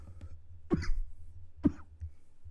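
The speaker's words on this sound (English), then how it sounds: "sorry for any coughing, everyone" Two short, sharp asthmatic coughs, about a second apart, close by over a low background hum.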